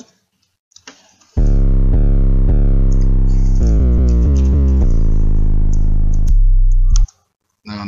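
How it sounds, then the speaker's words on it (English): A heavy, distorted 808 bass in FL Studio plays a series of sustained, gritty notes that slide in pitch, loud and upfront, with brief silence before and after. "Some distortion, and you're gonna have a whole new 808."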